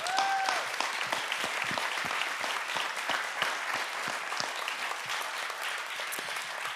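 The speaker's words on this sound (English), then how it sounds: "Give them a huge round of applause" Audience applause following a tech talk on circular technology, a steady dense wash of clapping hands that carries on throughout the clip at a moderate, even level.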